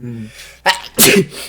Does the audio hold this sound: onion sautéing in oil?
no